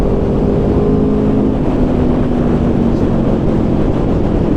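A group of motorcycles, including an Aprilia RSV4 Factory with BMW 1000s, Ducatis, Tiger 900s and Kawasaki 1000s, gives a continuous loud engine roar with a faint rising whine and no pauses.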